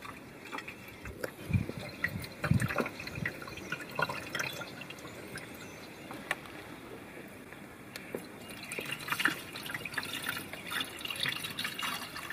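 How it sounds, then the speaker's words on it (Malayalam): Tap water is poured into the front-mounted coolant tank of a car during a cooling-system flush, a faint trickling and dripping with liquid gurgles, louder in spurts and quieter in between. "കൂളൻ ടാങ്കിലേക്ക് ഒഴിക്കുക."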